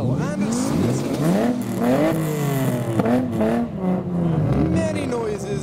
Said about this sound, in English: Subaru behind's making different type of noises. So is the Civic.